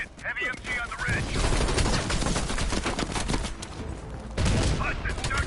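A heavy machine gun on a ridge fires long, rapid bursts in the Call of Duty Cold War campaign, loud and dense, with a brief lull before another sustained stretch of fire amid battle noise.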